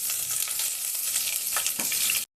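Onions hit hot oil already fragrant with cumin and a browned bay leaf, giving a bright, steady sizzle with a couple of sharp crackles before it stops suddenly.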